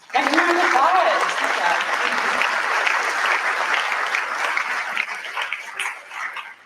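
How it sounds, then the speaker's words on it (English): Sustained applause fills a graduation ceremony hall, steady and dense from start to finish with a slight fade near the end, and a voice briefly audible early beneath the clapping. "give me a round of applause"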